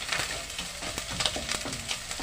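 Garlic frying in a pan while cooking spaghetti bolognese, a steady close sizzle with soft crackles and stirring taps, heard alone.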